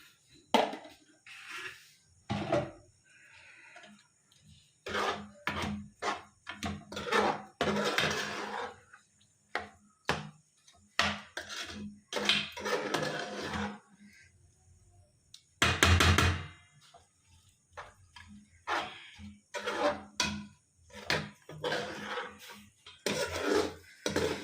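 A spoon stirs pumpkin halwa with jaggery and ghee in a pan, giving repeated sharp metallic scrapes and knocks in uneven bursts separated by short pauses, close and clear.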